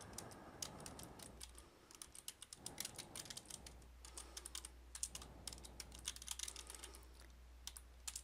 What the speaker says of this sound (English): I'm going to start by typing in my topic into this box